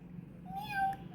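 A child imitates a cat's meow: a single drawn-out, rising and falling mew-like voice, close and clear against a quiet room.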